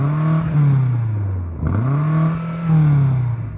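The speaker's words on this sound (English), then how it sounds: "Can you rev up the BMW" A BMW engine revs hard to a soft limiter, climbing and falling in two loud, close sweeps with a brief dip between them.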